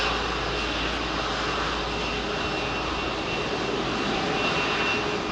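Rolls-Royce jet engines of an airliner departing London Heathrow runway 27R, a loud, steady, broad roar held close for several seconds with no talk.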